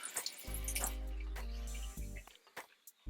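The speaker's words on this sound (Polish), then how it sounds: "No woda już nam leci" Water runs from a hose or tap into a travel trailer's fresh-water tank during cleaning and disinfection, a steady gushing hum that cuts off, followed by scattered drips and small splashes nearby.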